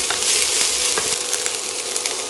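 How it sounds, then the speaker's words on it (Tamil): Onions sautéing in a pan for a Tamil mochai masala, a steady, close hiss of frying with faint stirring clicks running unbroken the whole time, no talk. "வெங்காயம் பச்சை வாடை போகிற அளவுக்கு வதக்கினா போதும்"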